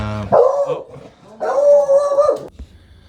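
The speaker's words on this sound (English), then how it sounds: "my dog was barking" A dog barks and howls close by in two drawn-out, yowling bursts separated by a brief pause, loud and alone without talk.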